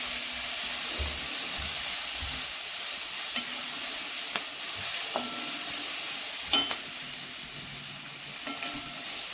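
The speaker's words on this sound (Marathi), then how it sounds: "पाव चमचा हिंग हे टाकायचं आणि चांगलं परतून घ्यायचं" Ajwain, crushed garlic, turmeric and hing sautéing in oil in a pan for street-style ulta vada pav, giving a steady close sizzle with occasional soft stirring clicks and no talk.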